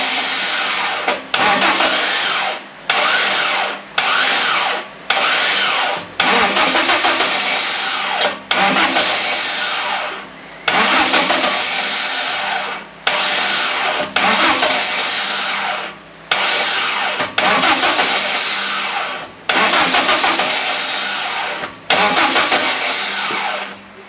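Car engine cranking repeatedly without catching, about a dozen grinding starter-motor bursts of one to two seconds each separated by short pauses, loud and close with no speech over it.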